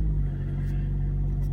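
A tuned turbocharged car's engine idles with a steady, close, deep rumble and an even hum, unbroken for the whole moment, no voices.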